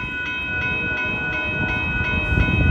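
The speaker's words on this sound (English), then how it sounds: "That train is switching over the track." An Amtrak California Zephyr train switching over the track at the Reno Trench in Reno, Nevada, giving a steady, loud rail rumble with a regular clack of wheels at close range.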